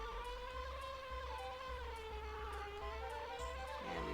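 Droning bee buzz in Banjo-Kazooie, a steady wavering hum that shifts slowly in pitch, carried over continuous game music without any speech.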